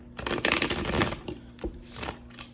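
A deck of tarot cards being shuffled briefly by hand, a quick riffling burst followed by a few softer slides and taps, close and fairly quiet, with no talking.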